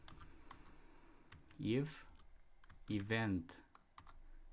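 Quick, light clicks from a computer keyboard come in a scattered rhythm while coding a Python snake game, and someone speaks briefly over the typing.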